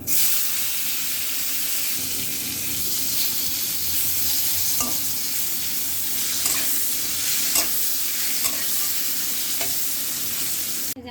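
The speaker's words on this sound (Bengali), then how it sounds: "তেলটা দিছি এই যেমন তেলের মধ্যে জিরা দিয়ে দিলাম" Fish and cumin seeds fry in hot oil in a home kitchen, giving a loud, steady sizzle throughout with occasional sharp clinks of utensils against the pan.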